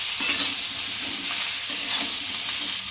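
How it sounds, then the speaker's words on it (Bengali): Cauliflower fries in a pan with a dense, close sizzle and steady crackle, stirred now and then with faint scraping, continuous and loud with no talk. "ফুলকপিটা তাহলে এখন ভেজে নিচ্ছ নাকি?"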